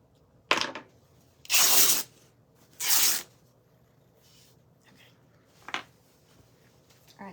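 Paper ripped by hand for a crafting project: a short tear, then two longer, louder rips about a second apart, followed by a faint rustle and one more brief tearing sound, all close and without talk.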